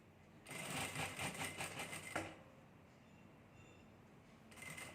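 A sewing machine stitches patterned fabric up to the corner, a fast, even mechanical rattle close by for about two seconds before it stops, then quiet with faint clicks and a brief return of stitching at the end.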